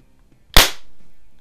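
A single sharp shot from a Daisy 88 BB gun, close and loud, with a brief decaying tail in an otherwise quiet setting.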